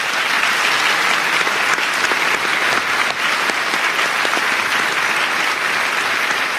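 A studio audience at the Brisbane Powerhouse applauds a political panel on a televised debate show, producing loud, sustained, dense clapping that fills the room evenly from start to finish.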